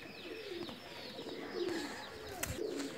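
Pigeons cooing in a loft, a family group of male, female and young bird, with repeated low throaty coos rising over steady background noise, several calls close together across the stretch.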